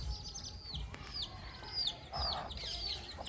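A mother hen clucks softly among her chicks, their thin high peeps and chirps repeating over low farmyard background noise at moderate distance.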